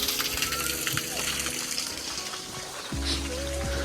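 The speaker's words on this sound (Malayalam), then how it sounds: "മലേൻ്റെ മുകളിൽ നിന്ന് വരുന്ന വെള്ളമാണിത്." Natural mountain water pours from a small pipe in a village near Jogini Waterfall, Manali, in winter. The gushing is steady and close, and the flow shifts partway through.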